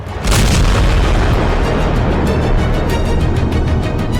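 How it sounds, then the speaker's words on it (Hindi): A huge bomb explosion booms and then rolls on as a sustained, roaring rumble, loud and close, with no voices. "ताबड़तोड़ बम धमाका, आसमान तक आग, काला खौफनाक धुआं।"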